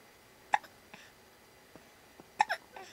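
An infant's hiccups come as two sharp, close catches about two seconds apart, each followed by a small breathy sound, in a quiet room.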